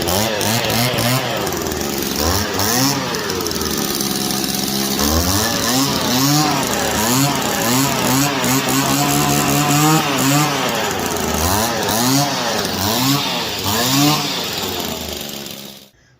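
A Stihl FS 85 R weed eater, just fitted with a replacement carburettor after failing to start, runs loud and close with a buzzing two-stroke whine, repeatedly revving up and down before cutting off abruptly.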